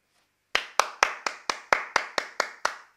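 Crisp hand claps, about ten in an even, steady rhythm, at a surfing technique seminar led by a sports doctor; close and clear, with no talk.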